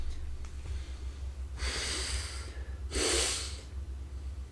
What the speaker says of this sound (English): Got to sneeze as well.